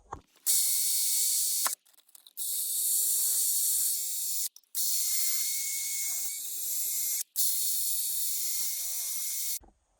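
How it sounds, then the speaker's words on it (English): Rotary wire brush scrubbing the housing of an old electric motor, a loud, close, steady buzzing whir in four long runs broken by brief stops, with no talking. "I don't really want to risk getting anything in the coil, so we're just going to use a wire brush."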